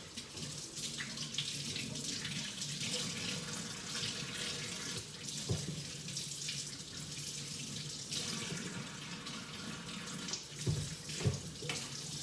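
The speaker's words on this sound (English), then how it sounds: "Let me wash my hands." A kitchen tap runs steadily into a sink while hands are washed under it, a soft continuous stream with a few brief splashes and clunks near the end, and no talk.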